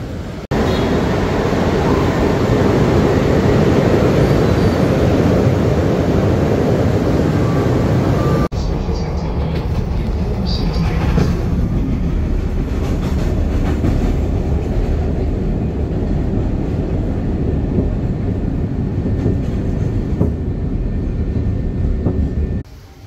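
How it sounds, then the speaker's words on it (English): A Chicago-area train rumbles along the rails with a loud, constant roar and faint rhythmic clatter, the tone shifting partway through as the ride continues. "I'm taking the train and then catching an Uber at that train stop"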